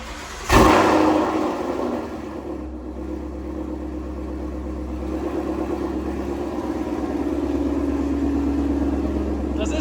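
A Ford S550 Mustang with an aftermarket exhaust, Corsa X or double H-pipe, fires up with a loud bark, then settles into a deep rumbling idle that rises slightly toward the end, close by.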